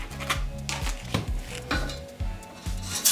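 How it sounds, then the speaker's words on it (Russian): Rapid, steady knife chops on a cutting board, a quick rhythmic series of sharp taps as a single garlic clove is finely minced. "буквально один зубчик чеснока мелко нарежу"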